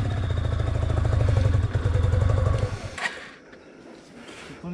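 A motorcycle labours up an extreme off-road mountain trail on the road toward Muktinath, its engine revving hard and pulsing near the mic, then easing off and fading before a short clatter and thump.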